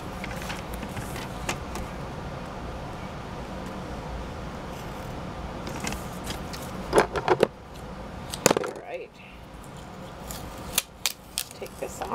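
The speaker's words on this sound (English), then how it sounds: "Go ahead and trim that guy out." Scissors trim paper for a handmade card, scattered sharp snips and rustles over a steady background noise, with a cluster of crisp cuts in the second half.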